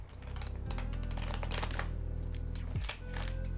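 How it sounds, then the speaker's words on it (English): A tarot card deck is riffle shuffled close up, giving a quick, crisp run of fluttering card clicks over a low hum, with no one speaking. "yes, they do riffle shuffle"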